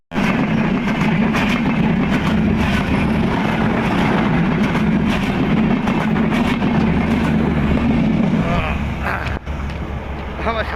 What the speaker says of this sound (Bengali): আমার সামনে দিয়ে রেল গেল